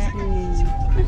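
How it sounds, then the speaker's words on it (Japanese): An ambulance siren wailing with rising and falling pitch nearby, a voice talking over it. "救急車だ。"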